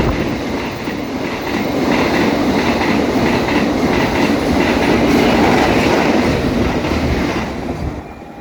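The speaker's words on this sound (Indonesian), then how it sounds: "kereta api Argo Bromo Anggrek akan segera melintas langsung di stasiun Karawang" The Argo Bromo Anggrek express passenger train roars past at close range through Karawang station without stopping, loud and steady with rhythmic wheel clatter throughout, fading slightly at the very end.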